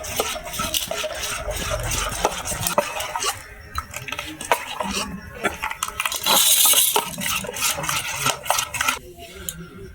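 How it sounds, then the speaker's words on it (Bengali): Spoon stirring a thin pitha batter of salt and water in a bowl, with continuous scraping, clinks against the dish and brief pauses over about ten seconds. "আমি পিঠেটা শুধু বানাতে নুন মানে লবণ আর জল দিয়ে গুলছি।"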